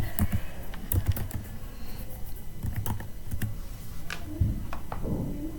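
Close typing on a computer keyboard while entering an item into a teacher's assessment software, bursts of quick clicky keystrokes with short pauses between them.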